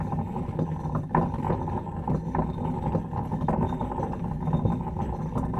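A stone worked against a wood surface makes a dense, low, rumbling grind that runs steadily with faint scraping detail on top, close and continuous, like a muffled underwater loop.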